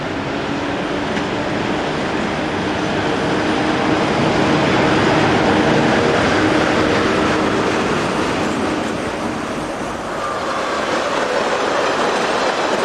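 Locomotive 1033, a locally based track-maintenance engine, passes on a Luxembourg line toward Longwy: a loud, steady rumble with wheel clatter and faint squeal that fades a little near the end and then swells again.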